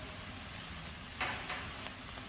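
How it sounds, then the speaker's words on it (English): Garlic and ginger sauté in a pan of hot oil with a soft, steady sizzle and a brief brighter crackle midway, close and alone. "Now we will saute it a little bit."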